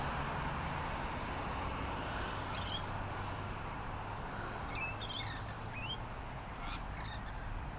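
Birds at a lakeside give several short squawky calls in bursts, fairly distant over a steady outdoor background hiss of wind or water.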